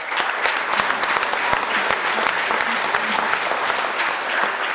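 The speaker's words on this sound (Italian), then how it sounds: "un bel applauso a Riva Samba" Applause from a crowd of fans in an Italian sports television studio, honouring Riva Samba, steady and dense for the whole stretch, with some voices mixed in underneath.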